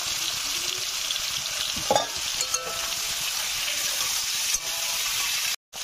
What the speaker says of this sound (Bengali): এবারে কেটে রাখা টমেটো গুলো দিয়ে দিলাম।